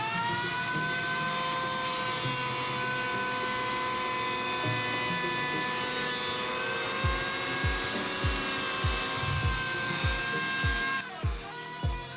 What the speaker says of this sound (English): we can plane that subfloor down